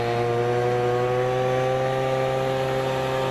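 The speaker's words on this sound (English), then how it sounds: "a leaf blower to recreate our downburst." A leaf blower runs steadily at close range, a loud constant motor whine with a strong droning hum that holds level throughout and cuts off abruptly at the end, with no voices.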